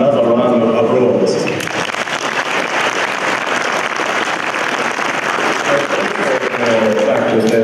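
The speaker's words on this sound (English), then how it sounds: "Another round of applause." Audience applause at a university research presentation event, a steady wash of clapping filling the room for several seconds, with voices audible at the start and end.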